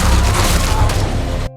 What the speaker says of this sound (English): Suddenly, gunshots ring out as a speedboat rushes in